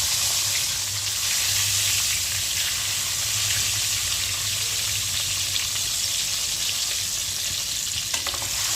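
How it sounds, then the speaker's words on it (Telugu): Eggs frying in a pan of plenty of hot oil for an egg masala curry, a steady loud sizzle and crackle running unbroken throughout, with no talking. "గుడ్లు అయితే వేపుకుంటున్నాను"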